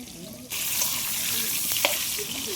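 Potatoes frying in a pan give off a dense, close sizzle that jumps louder after a brief quieter start and then holds steady, with a faint clink partway through.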